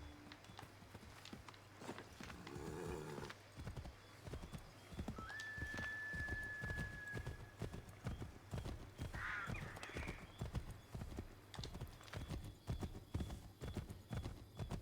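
Horse hooves pound at a gallop in Assassin's Creed 3, with rapid, even clip-clop beats throughout, a brief whinny partway through, and a quiet background.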